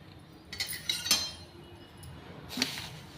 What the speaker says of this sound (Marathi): आता जवस भाजून घ्यायचे आपल्याला।